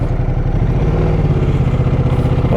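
A Ducati Multistrada motorcycle engine idles close by with a loud, lumpy, rapid pulsing beat that stays steady throughout.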